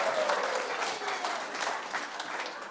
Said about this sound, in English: Can we get some applause going?